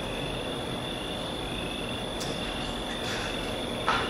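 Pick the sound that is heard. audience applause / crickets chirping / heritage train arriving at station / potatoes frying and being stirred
crickets chirping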